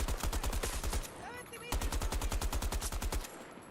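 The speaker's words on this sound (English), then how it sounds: "I'm shooting right now." Rapid automatic gunfire from Battlefield 2042 on PS5, two long close bursts of evenly spaced shots separated by a short pause with a faint voice underneath.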